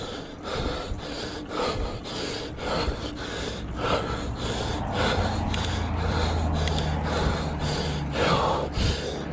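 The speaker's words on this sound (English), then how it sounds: "Apologize for my breathing." A cyclist breathes heavily while riding up a long, sustained hill on a paved recreational trail, with close, loud, repeated gasping breaths and snorts in an irregular rhythm, with no talking.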